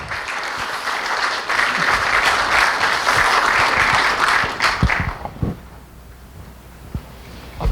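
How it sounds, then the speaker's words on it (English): An audience at a talk on brain ageing applauds a speaker, a dense, steady wash of many hands clapping for about five seconds before thinning into a few scattered claps and quiet room noise. "So very warm round of applause for Dr. Niyom."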